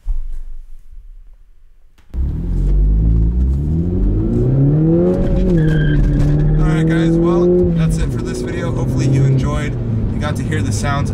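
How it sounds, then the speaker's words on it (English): A Mini Cooper S engine fitted with a CravenSpeed cold air intake starts up and revs, its tone rising and falling through several loud pulls with intake whoosh and whine, close and continuous after an idle start. "To hear the sounds of the CravenSpeed intake."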